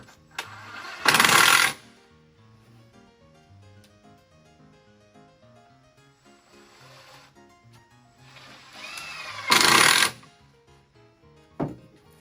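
A power driver sinks screws into the edge of a wooden module in two short, loud whirring bursts about eight seconds apart, with faint workshop handling sounds in the quiet stretch between them.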